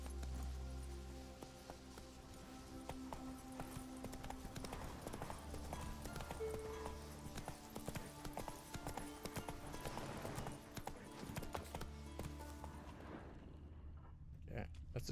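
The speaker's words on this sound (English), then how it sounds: "There's me horsey." Horse hooves clip-clopping steadily in The Witcher 3 as the rider travels through Velen, rhythmic footfalls under game music and ambience with talk over it, fading out near the end.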